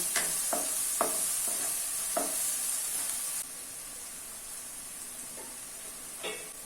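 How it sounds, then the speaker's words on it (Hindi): Chopped onions frying in oil on a medium flame, a steady sizzle with a few sharp scrapes of the spoon as they are stirred early on, then a quieter continuous hiss, close and alone. "ऑनियन को अभी मीडियम फ्लेम पे लगभग 4 से 5 मिनट तक फ्राई कर लेना है।"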